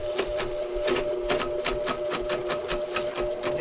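A drain snake buckles and chatters against buildup inside a clogged washing machine drain pipe, making a rapid rhythmic rattling and tapping over a steady mechanical whir. It stays close and continuous.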